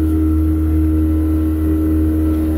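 An 18-foot Duckworth Navigator boat's motor drones loud and close at wide open throttle, a steady unbroken roar across the whole clip.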